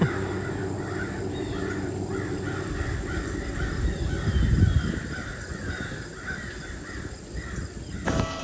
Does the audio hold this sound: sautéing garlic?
no